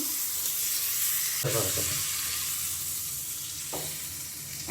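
Beef steak frying in a pan late at night, giving a steady moderate sizzle with a couple of sharp utensil knocks and scrapes.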